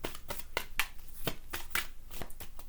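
Tarot cards being shuffled by hand, a quick series of crisp riffling and slapping sounds, close and steady, with no talking.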